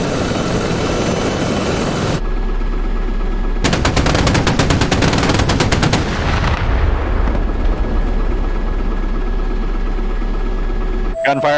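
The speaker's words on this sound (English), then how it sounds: "Gunfire" Rapid machine gun fire in the DCS flight simulator during a Falklands War mission, sustained bursts over a loud aircraft engine drone, with engine hum continuing after the firing stops.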